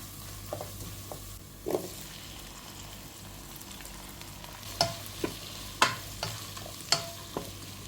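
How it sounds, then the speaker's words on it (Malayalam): Tomatoes go into frying spices for a Kerala-style rasam, giving a low background sizzle broken by several sharp spoon-scrape stirs and knocks against the pan, spaced a second or so apart. "ഈ സമയത്ത് നമുക്ക് തക്കാളിയോടെ അങ്ങോട്ട് ഇട്ട് കൊടുക്കാം"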